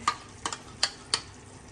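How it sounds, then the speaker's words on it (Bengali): A spoon stirs whole quail roast with tomato ketchup in a pan, giving four sharp scraping clicks spaced about a third of a second apart over a soft, quiet sizzle. "আবার একটু ভালোভাবে নেড়ে চেড়ে মাখিয়ে নেব"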